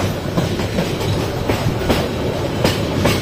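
Steady rail rumble of the Kishorganj Express near Methikanda station outer, wheels clacking over joints in loose rhythm amid loud continuous carriage noise heard from inside the train, no voices.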